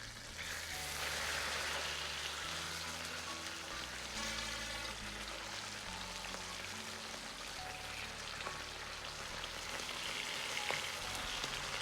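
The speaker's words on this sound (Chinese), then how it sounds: "一面煎制大概需要2分钟左右，煎出香味，然后再翻面煎另一面" Marinated char siu pork sizzles in a pan over medium-low heat, a steady dense crackle of frying oil lasting throughout without pause.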